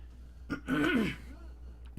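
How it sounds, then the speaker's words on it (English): A man clears his throat once, close and fairly loud, with a short raspy rumble that swells and fades, framed by a couple of faint clicks in an otherwise quiet room. "I'll clear my throat."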